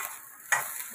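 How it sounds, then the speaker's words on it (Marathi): Onion and coconut roast in a pan, heard as a soft hiss broken by two sharp bursts of scraping as a spatula stirs them, close by and without talk. "आता आपला कांदा खोबरा मस्त असं भाजलंय"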